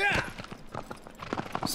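Horse hooves clip-clopping in the video game Shadow of the Colossus, a quick run of soft rhythmic steps mixed under someone talking.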